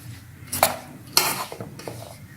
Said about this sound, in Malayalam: നന്നായിട്ട് മിക്സ് ചെയ്തെടുക്കുക